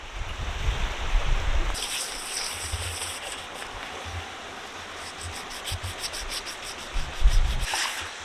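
Steady scraping and rubbing of fine sandpaper on the smooth surface of a metal gold pan, continuous with a few stronger back-and-forth strokes, close and moderately loud.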